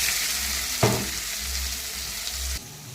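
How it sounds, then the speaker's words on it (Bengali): Green chilies fry in a wok with a bright, continuous sizzling hiss and a single sharp clink of a utensil partway through, close and loud. "সে কড়ার মধ্যে আমি লঙ্কাটাকে ভেজে নিচ্ছি"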